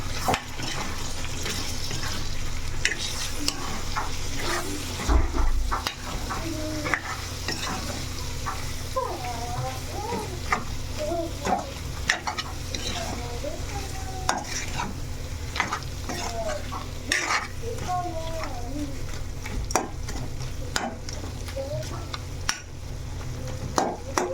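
Chicken biryani with raw masala being stirred in a clay pot, spoon scraping and mixing steadily over a constant sizzling hiss, with frequent small knocks against the pot and faint background sounds throughout.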